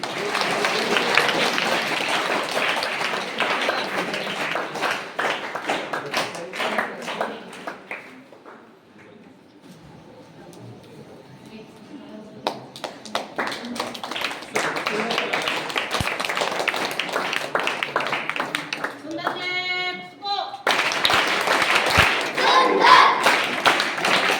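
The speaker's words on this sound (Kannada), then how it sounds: "ಸ್ವಲ್ಪ ಮಕ್ಕಳು ಜೋರಾಗಿ ಚಪ್ಪಾಳೆ ತಟ್ರಿ." Children clap loudly and rapidly at a birthday event where notebooks and sweets are handed out. Sharp, crowded claps run in bursts, briefly pause, then return stronger, with voices mixed in.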